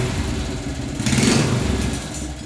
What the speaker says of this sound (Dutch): vooral dikke inpitters, 1-cilinders met een lekkere ferme klapper uit